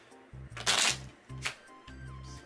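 Playing cards for a deck-building card game are shuffled close up in several quick riffling bursts, with brief pauses between them.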